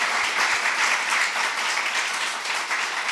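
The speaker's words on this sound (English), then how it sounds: "Applaud yourself." Audience applause closes an evening panel event on European and Japanese security cooperation, a steady wash of many hands clapping for about three seconds with a few low thumps near the start.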